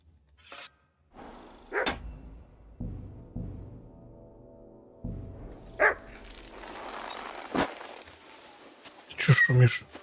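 A dog barks and yelps in Kingdom Come: Deliverance II, a few sharp barks spread over the clip with a whimpering tone, alongside game sounds and a brief rustle near the end.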